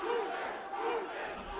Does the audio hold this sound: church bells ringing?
no